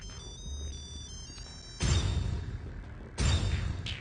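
A melodic phone ringtone plays in repeating phrases, with louder bursts of noise and rustling cutting in partway through.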